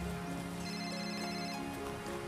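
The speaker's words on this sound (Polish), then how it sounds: "Poczekaj, telefon mam," A mobile phone ringtone plays steadily as a sustained electronic tone pattern, fairly loud and continuous over a busy background, with no talk over it.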